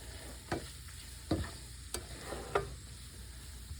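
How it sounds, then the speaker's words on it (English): Browned ground beef with taco seasoning stirred in a sizzling pan, a soft frying hiss punctuated by about five scraping strokes of a utensil, close and fairly quiet, no talking. "I'm gonna add in some taco seasoning. I just had a partial package left. So I'm gonna stir that around in here."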